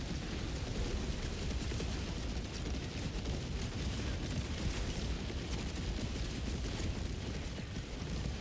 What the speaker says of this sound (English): that Gatling barrage was not as accurate as I was hoping it was to be